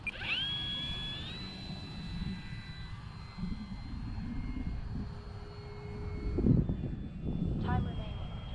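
A small E-flite Draco RC model airplane's motor whines at a steady high pitch overhead, shifting tone as it flies, with people talking nearby.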